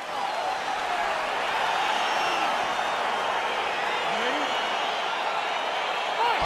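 A virtual arena crowd in EA Sports UFC 4 roars continuously ahead of a bantamweight fight, a dense, sustained cheer with whoops, while a commentator talks over it.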